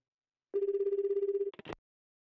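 A phone rings while calling Nanami in the video game Chaos;Head NOAH: one trilling electronic ring of rapid pulses lasting about a second, then a short clicking pickup noise, alone in silence.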